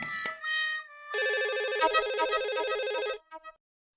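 A home telephone rings with a warbling electronic tone, starting in short bursts and then holding steady in a long, bright trill before cutting off with a couple of brief chirps, with no voices.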